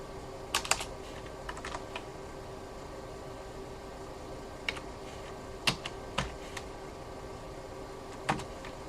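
Sparse clicks of a computer keyboard as a password is typed, a few scattered keystrokes in small clusters over a steady low hum, with no talking.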